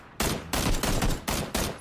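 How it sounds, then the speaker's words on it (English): Several bursts of gunfire from PUBG weapons, loud and close, firing in quick volleys with short gaps between them, and no voices. "let's shoot him"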